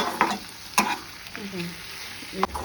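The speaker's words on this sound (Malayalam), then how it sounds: "നമ്മൾ റോസ്റ്റ് ചെയ്ത് വെച്ചേക്കുന്ന പ്രോൺസ് ചേർക്കാം. ഇതൊന്ന് മിക്സ് ചെയ്ത ശേഷം" Roasted prawns stirred in a frying pan, with several scraping, clattering strokes of a spoon and a soft sizzle in between, close and fairly quiet, no talking.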